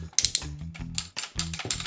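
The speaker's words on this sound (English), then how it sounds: "Full 360 on really tight ratchets." Tight ratchet joints on a Hello Carbot transforming robot toy clicking repeatedly, crisp and close, in quick irregular bursts of plasticky clacks with no talking.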